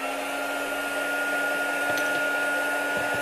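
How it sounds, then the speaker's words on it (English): Heat gun for card-making embossing, blowing as a steady, even whirring hiss with a faint tonal whine, continuous and close throughout. "I'm just going to be turning the heat gun on,"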